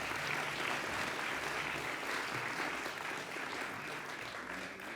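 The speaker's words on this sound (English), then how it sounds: "Give her another big round of applause, please" An awards-ceremony audience for animal welfare honours gives sustained applause, a dense continuous roar of many hands that stays fairly quiet and even from start to finish.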